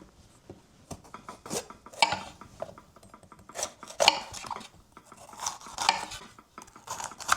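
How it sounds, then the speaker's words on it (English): A knife slices bell peppers into diamonds along their outer walls on a cutting board, producing a series of crisp, close chopping taps and scrapes in irregular bursts without speech. "This is how I cut my peppers."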